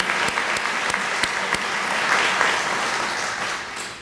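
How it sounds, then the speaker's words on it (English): An audience at a Black History Month celebration claps in a burst of applause, dense and steady with a few sharp individual claps standing out, fading slightly toward the end. "give her a round of applause too"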